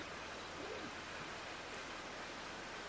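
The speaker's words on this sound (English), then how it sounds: "it's literally just started raining" Steady rain falls in the video game Farming Simulator 22, an even, unbroken hiss that holds at the same level for the whole stretch with no other sounds.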